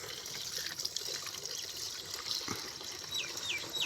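Water runs steadily into a container in a village setting, a continuous splashing fill with faint chirps from birds or insects in the background and no talk.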